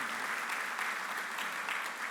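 A church congregation applauds during a sermon, a steady wash of many hands clapping together at moderate distance, sustained without a break.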